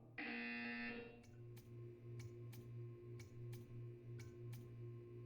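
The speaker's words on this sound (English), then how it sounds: "You will hear a buzzer." A buzzer in Portal 2 blares for about a second, followed by a steady series of crisp ticking clicks over a low electronic hum.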